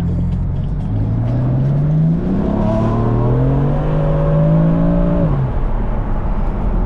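Very loud car engine revving up close, pitch rising and swelling over several seconds before cutting off sharply, followed by a steady lower drone.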